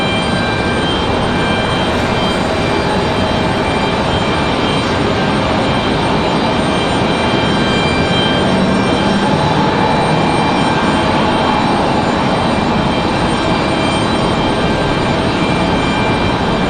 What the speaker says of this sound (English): a Delta CRJ from Nashville, Tennessee